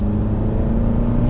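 A 2020 Alfa Romeo Giulia Sport sedan in normal mode gives a steady, loud engine rumble under light throttle, a low continuous drone with no voices.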